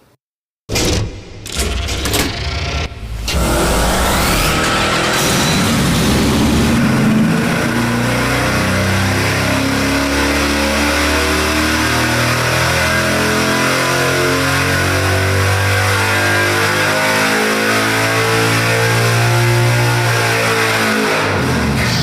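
A 5.7-liter Hemi V8 built for Hellcat-style power roars under load on an engine dyno, a loud, sustained, steady mechanical howl after a brief startup burst.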